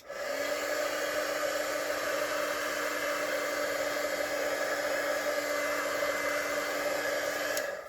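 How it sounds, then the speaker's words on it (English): A heat gun blows steadily for nearly eight seconds, drying ink on a handmade stamped card, its loud even whoosh and fan whine holding constant close to the listener before cutting off at the end. "I'm going to hit this with the heat gun just to dry it off a little bit."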